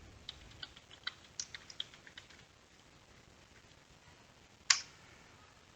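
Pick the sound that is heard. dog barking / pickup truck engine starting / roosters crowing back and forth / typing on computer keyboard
typing on computer keyboard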